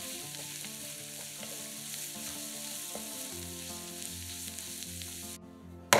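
A mushroom filling frying in a pan gives a continuous soft sizzle under light stirring, steady and fairly quiet throughout, then cuts off abruptly with a faint knock at the very end.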